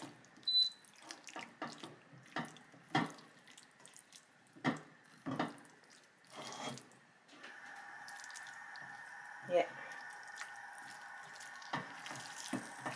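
Water trickles and splashes into a meat pie dough mixture, starting as a few separate knocks and pours before settling into a steady faint running stream.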